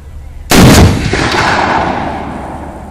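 A single deafening .50 caliber gunshot fired at a minivan cracks out close by, followed by a long rolling echo that slowly fades away.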